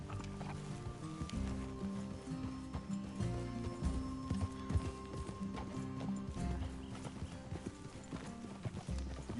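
Horse hooves clip-clopping in the video game Red Dead Redemption 2: a steady walking clatter of several hooves, close and continuous, with a faint whinny and game music underneath.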